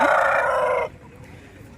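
A rooster crows once at a poultry market in Gudur, loud and close, the call ending abruptly and followed by quiet background.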